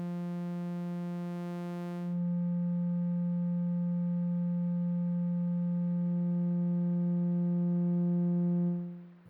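A steady synthesized tone runs through the Vacuum plugin in Pro Tools, holding a buzzy harmonic-rich drone for several seconds after a brief brighter opening, then cutting off at the end.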